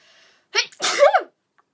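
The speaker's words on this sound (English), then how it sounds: "in between them years is when I'm about to sneeze" A single loud sneeze with a sharp inhaled build-up followed by an explosive burst, close and clear against near silence.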